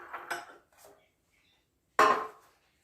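A knife cuts through a loaf of bread, crust left on, chopping it into small pieces for bread and butter pudding: a few quick crunchy strokes close by, a pause, then one sharper cut.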